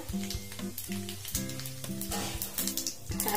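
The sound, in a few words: cumin seeds and asafoetida sizzling in hot oil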